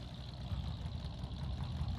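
An old tractor engine idling in the video game Farming Simulator 22, a steady low rumbling chug running throughout, close and even, with no talking.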